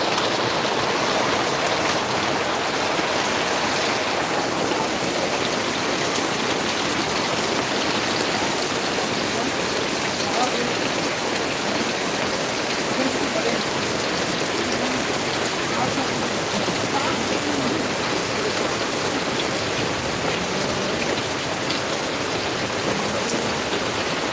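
Steady, dense rain pours down close by at a roadside tea stall during a sudden downpour, a continuous broadband hiss that stays even and unbroken throughout.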